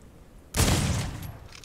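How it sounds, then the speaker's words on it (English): A single sharp, loud gunshot at a bison in the western survival game Outlaws of the Old West, followed by a fading echo after a quiet start. "Two shots. Two headshots to the bison."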